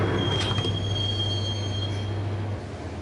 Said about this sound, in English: the train doors had already shut behind me